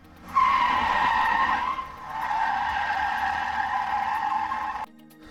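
A car tire screech sound effect: a loud, sustained squeal that starts abruptly, dips briefly after about a second, then carries on for several more seconds before cutting off, heard alone with no talk.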